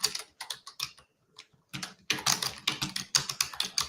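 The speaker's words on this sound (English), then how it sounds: "No, my keyboard doesn't work now." Fingers tap a computer keyboard in close, crisp bursts of keystrokes, a few scattered clicks and a short pause, then a fast steady run of typing, with no voices.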